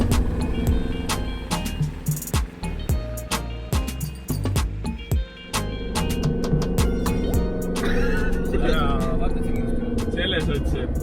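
A small moped-class microcar's engine runs with a steady low drone close by, broken by clicks and knocks from inside the cabin, while a person talks over it throughout.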